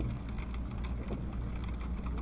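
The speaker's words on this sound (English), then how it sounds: "And the rain keeps falling." Rain falls on a car in a steady, dense patter with a low rumbling wash underneath, continuous and even, with no voices.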